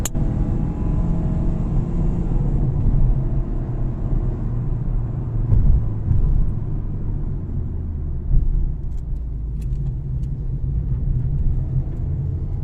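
A BMW X3 drives up a rough road toward a workshop in Paphos, Cyprus, heard as a loud, steady low engine and tyre rumble with occasional bumps, no voices.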